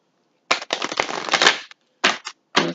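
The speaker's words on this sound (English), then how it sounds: "Now we're going to go to my ancient oracle cards and" Oracle cards being shuffled by hand in quick papery bursts, a long riffling run followed by two short flurries, close and clear with no talking.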